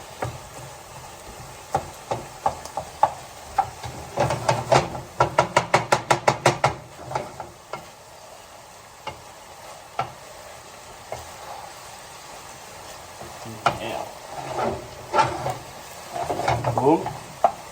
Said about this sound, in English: Give her a bit of a stir.